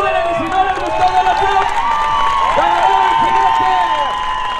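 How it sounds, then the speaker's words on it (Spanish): A crowd claps and cheers at a rodeo bull ride at Rancho Ramírez in Ramona, California, a steady wash of applause running under a loud announcer speaking Spanish over a PA. "Señoras y señores, si les gustó la monta, apláudenle"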